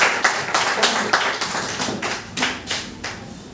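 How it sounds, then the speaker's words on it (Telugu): An audience at a business plan presentation claps hard in a steady rhythm, about ten sharp, evenly spaced claps close by with no talking. "సో అందరు గట్టి చప్పట్లు పెడతారు"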